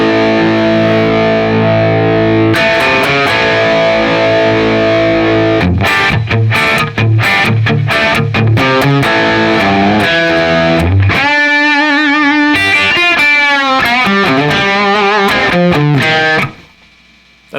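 Electric guitar played through a Guitar Rig amp preset, with loud, heavily distorted chords and riffs that ring out, then break into choppy stabs and single-note bends before stopping abruptly near the end.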